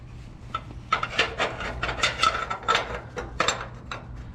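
Grinding a metal body mount to fit on a 2020 Toyota 4Runner, a harsh rasping grind in uneven bursts over a low steady hum, close and fairly loud, with no talking.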